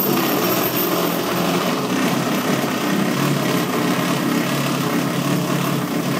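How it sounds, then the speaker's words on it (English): Small gas engines rigged to power a PC run at a steady high-pitched buzzing drone, loud and close and without a break, with no talking. "as the computer uses more wattage, it loads the little motors down"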